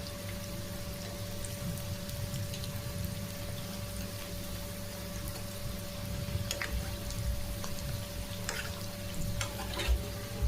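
Donuts fry in a pan with a steady low sizzle, and soft scrapes and stirring clicks come through as they are flipped one by one. The sound is continuous and moderately close, with no talking.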